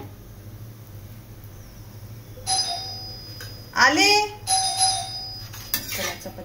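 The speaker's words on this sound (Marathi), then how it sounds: "किती बेल वाजवतोय बघा" A doorbell rings repeatedly in a home kitchen while chapatis are being cooked, several bright ding tones in quick bursts over a steady background hum, with a voice speaking briefly between rings.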